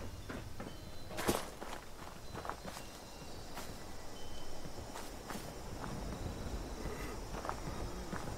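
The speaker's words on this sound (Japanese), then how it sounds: "足音が聞こえるんだよな。" Footsteps sound in the video game Fallout 76 as a quiet series of irregular crunchy steps and small thuds over a faint ambient background, with one sharper knock early on.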